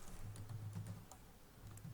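Filename being typed on a computer keyboard, soft rapid key clicks in a short burst, a pause, then a few more taps, quiet and close with no voices.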